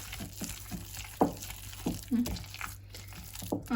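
Grated potato batter for Swedish raggmunk being stirred with salt, soft wet squelching and scraping strokes in an irregular rhythm, close and fairly quiet.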